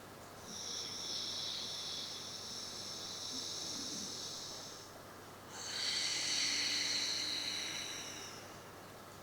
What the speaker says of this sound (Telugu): బ్రీత్ అవుట్ చేసినప్పుడు హిస్సింగ్ సౌండ్ని మనం ఉత్పత్తి చేయాలి